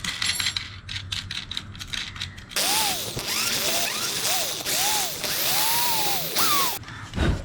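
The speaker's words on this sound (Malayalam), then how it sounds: "ഇനി നമുക്കിത് ഊരിയെടുത്ത് ബാക്കിയുള്ള ഹോൾസ് കൂടെ ഇട്ട് കൊടുക്കാം" Drilling holes through a camera light mounting platform, a broadband power-tool whine with rising and falling pitch sweeps as the bit bites, running steadily for several seconds after quieter handling noises.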